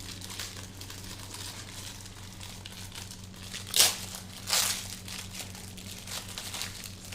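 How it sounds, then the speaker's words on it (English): Packaging from a PME cupcake kit being unwrapped, soft crinkling throughout with two louder plastic rustles in the middle, close and with no talking. "let's unwrap him first"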